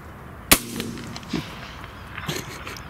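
A single sharp shotgun blast rings out during a wood pigeon hunt outdoors, loud and close, followed by a faint rustle and a couple of soft thumps in quiet surroundings.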